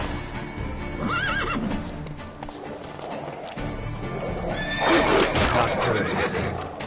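Roach the horse in The Witcher 3 whinnies twice and clip-clops on hooves, the neighs rising over a steady rhythm of close footfalls, with a voice speaking briefly.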